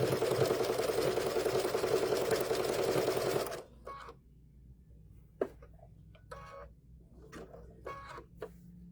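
A sewing machine running cotton thread hums steadily for a few seconds, then stops, leaving quiet room tone broken by scattered clicks and brief handling sounds.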